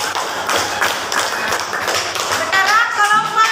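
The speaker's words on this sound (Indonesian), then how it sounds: "Tepuk tangan untuk kelompok" Students and teacher applaud a student group in a classroom, a brief burst of scattered hand claps and taps lasting a few seconds, fairly loud and close.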